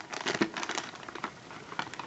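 Very sharp scissors slice open a product box for in-ear monitors, giving close, crinkly snips and crackles of packaging in a steady run of short bursts with no talking.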